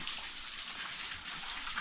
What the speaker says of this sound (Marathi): पाणी कंटिन्यू असं पडत असतो त्याच्यातून